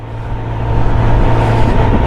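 A woman's new motorcycle ridden after six months away, its engine holding a steady low drone with a constant hum and rising road rumble, loud and close, with no voices.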